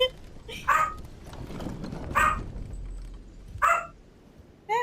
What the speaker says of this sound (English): Now you can listen to Batman barks instead.